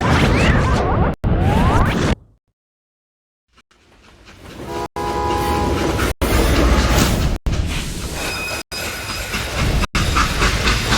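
Train from the video game Call of Juarez Gunslinger, a steady loud rumble with rhythmic clacking and brief horn-like tones, interrupted by a short silence near the start before the sound returns.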